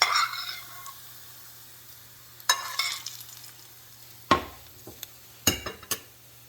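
Sautéed onion is stirred into spinach curry in a pan. After a faint sizzle, a spoon clinks and scrapes the pan in a few sharp, separate knocks.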